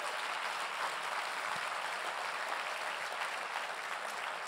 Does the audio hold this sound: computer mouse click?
no